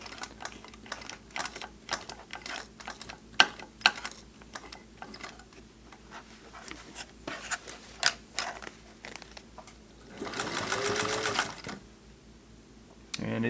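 A Singer Heavy Duty sewing machine hems jeans, advanced slowly by hand in faint, uneven mechanical clicks and clacks, then briefly runs in a short, louder whirring burst near the end.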